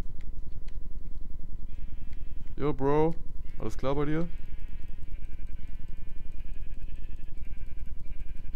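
Two close, loud sheep bleats from the video game Minecraft, one after the other over a steady rhythmic background hum, with someone talking briefly.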